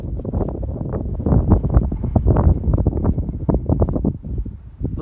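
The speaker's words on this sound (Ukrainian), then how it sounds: "а так аж шапку зносить такий вітер" Strong, cold wind gusts across an open crop field, buffeting the microphone with loud, uneven low rumbling bursts that rise and fall without pause.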